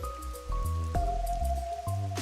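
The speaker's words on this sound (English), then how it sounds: "It's still raining as usual" Rainfall over a city district in a video game, a steady soft patter of drops spread across the scene, with sustained musical tones running beneath it.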